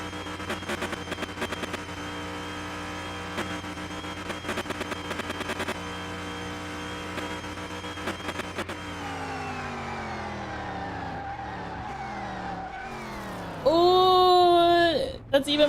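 An inline six car engine in Car Mechanic Simulator 2021 drones steadily, then rises in pitch as it accelerates and revs, ending in a sharp loud burst of engine noise, with someone talking over it.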